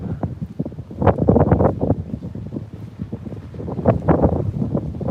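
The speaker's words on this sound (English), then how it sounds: "It's kind of windy here." Warm wind blows in gusts near a bridge over the Ural River in Orenburg, Russia, buffeting the microphone with loud, uneven rumbling bursts throughout.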